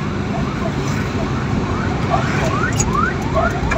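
A wailing ambulance siren rises and falls repeatedly over rumbling traffic noise, moderately loud and fairly close.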